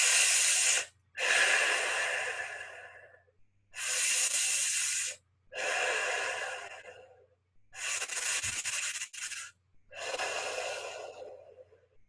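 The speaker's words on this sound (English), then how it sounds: "As I now breathe in, as though sucking in through a straw and breathing out." Slow, deep breaths in and out, six long airy breaths of two to three seconds each separated by short pauses, close and soft, with a faint low hum underneath.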